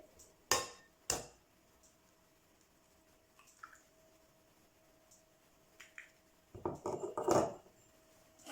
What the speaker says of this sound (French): Pour l'omelette sèche, il faut casser les œufs.